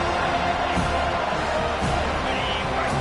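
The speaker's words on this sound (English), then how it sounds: "this big crowd doing everything possible to inspire this defense down here near the goal line" A big football stadium crowd roaring continuously near the goal line in overtime, a loud, dense wall of cheering with no pauses.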